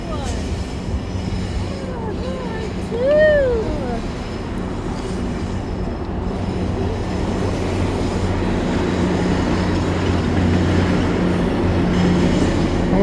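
GO commuter trains roll past on a Toronto rail corridor near CityPlace, a steady loud rumble of wheels on track with a brief high squeal of wheels early on, heard from nearby outdoors.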